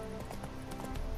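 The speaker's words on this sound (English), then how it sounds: "Spooking my horse." Horse hooves clip-clopping in The Witcher 3, a steady run of soft thuds over a dense game soundscape with music and ambience, briefly near and continuous.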